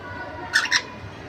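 Two quick squawky bird calls close together, sharp and bright, over a low steady background hum.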